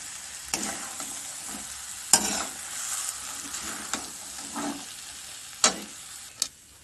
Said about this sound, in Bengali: আলু সিদ্ধ এবং মটরটাকেও একসাথে আমি কষে নেব।